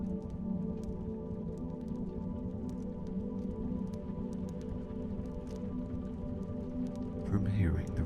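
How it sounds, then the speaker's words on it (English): Rain in a meditation track patters steadily as soft raindrop taps on a window, a continuous gentle wash with scattered light ticks throughout, plus a brief louder rustle near the end. "From hearing the raindrops tap at your window,"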